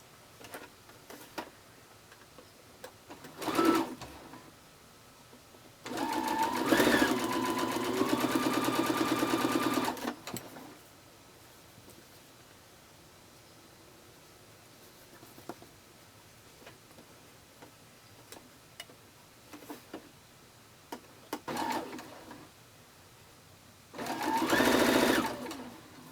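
A sewing machine chain-pieces quilt blocks for a four patch block in several separate bursts of rapid mechanical stitching. The longest run lasts a few seconds, with quiet handling and faint clicks in between.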